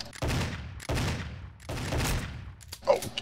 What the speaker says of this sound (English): I will shoot you with my classic pistol.